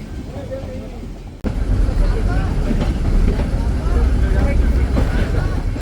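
The Nilgiri toy train on the Coonoor to Ooty heritage line rumbles slowly along, a steady close rolling drone that grows louder after a brief opening, with voices faintly mixed in.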